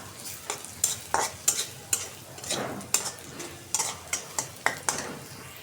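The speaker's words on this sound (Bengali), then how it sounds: "রসুন ভাজা নিতেছি, সরিষার তেল দিয়ে ভাজতেছি।" Garlic and onion fry in mustard oil, a soft sizzle broken by repeated sharp scrapes and clinks of a spatula stirring against the pan.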